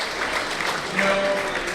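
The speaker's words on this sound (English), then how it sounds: "Give a nice applause, nice round of applause." A crowd applauds steadily with dense clapping, a voice calling out briefly partway through.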